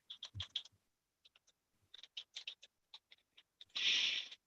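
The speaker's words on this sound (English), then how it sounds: "I have an agreement I'm typing up for Jason real quick to put on the record" Someone types on a computer keyboard during a county court Zoom hearing, with close, fast clusters of key clicks in irregular bursts, followed by a brief rustling scrape.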